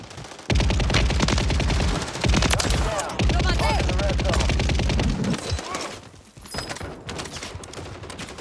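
Heavy, sustained automatic gunfire in Call of Duty Warzone, with rapid bursts of overlapping shots at close range that carry on for several seconds before tapering into scattered shots.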